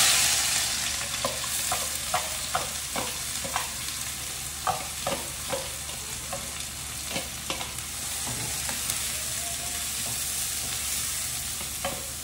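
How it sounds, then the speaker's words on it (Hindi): Chopped onions sizzle loudly in hot oil for an egg curry tadka, with a steady crackling hiss and frequent quick clicks of a spoon stirring them around the pan. "ये चॉप किए हुए अनियन हम इसमें डालेंगे"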